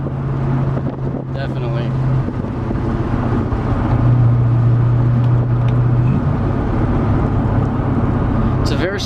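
Engine of a 1972 DeTomaso Pantera droning steadily from inside the small cockpit while riding, with a low hum that swells midway, under people talking and a brief spoken reply.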